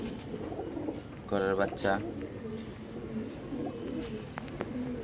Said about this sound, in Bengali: তো তাদের জন্য আজকে এই আমার ঘরে গররা কবুতর এসে